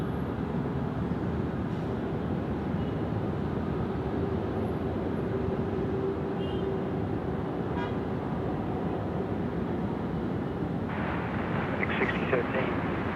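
An Air China Boeing 777 departing Sydney Airport for Beijing gives a continuous, broad jet roar at steady loudness for the whole stretch, with faint tonal bursts near the end and a voice talking over it.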